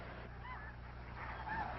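Snow geese honk at a wintering wildlife refuge, a few distinct calls rising over a steady low background rumble, moderately distant and fairly faint.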